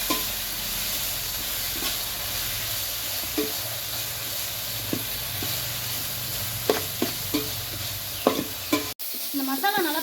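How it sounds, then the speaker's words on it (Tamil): Ground masala with ginger garlic paste sizzles steadily in a hot pan as a spoon stirs and mixes it, with scraping strokes and sharp clinks against the pan, heard close up. "இதையும் இது கூட சேர்த்துக்கலாம். நல்லா கலந்து விட்டுக்கலாம்."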